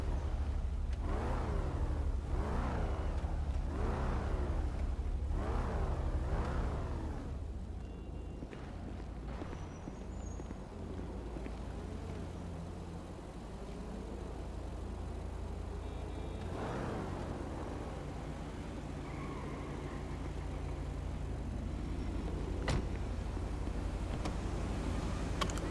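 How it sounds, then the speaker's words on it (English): Cars driving around on a GTA roleplay server: engines revving and whooshing past in a few repeated rising sweeps, then a steady low traffic hum and whir for the rest. "Why am I hearing cars around me?"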